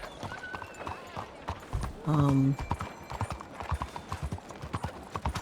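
A horse ridden in Red Dead Redemption 2 clip-clops along in rapid hoofbeats, with a short whinny-like tone partway through, as someone talks over the gameplay.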